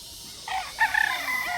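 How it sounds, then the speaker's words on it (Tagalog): Chickens and young roosters (stags) kept in a backyard pen; one rooster crows close by in a short, loud call, with chicken clucking mixed in. "So ayan yung ating mga manok dito oh."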